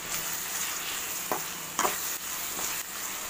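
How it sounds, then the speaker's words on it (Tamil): Onions and curry leaves sautéing in a pan for a thirukkai fish dish, a steady close sizzle with a few brief spatula scrapes cutting through, no talking. "நல்லா வதங்கட்டும்"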